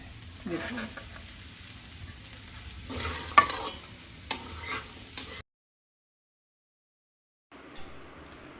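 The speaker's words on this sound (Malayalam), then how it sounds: "ഇനി നമുക്ക് ഇതിലോട്ട് ക്യാരറ്റ് ഇട്ട് കൊടുക്കാം." Julienned carrots fry with ginger and garlic in a pan for prawn vegetable rice, a low sizzle with scattered spatula scrapes and clicks, cutting to silence briefly before the frying resumes.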